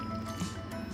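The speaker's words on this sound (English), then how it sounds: "I'm just gonna go ahead and start scooping this in very carefully." Chicken pot pie filling is spooned into a pie crust in a home kitchen, giving a soft wet squish and drip in one quiet, brief scoop.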